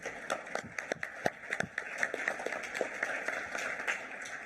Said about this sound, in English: So it's an applause for them.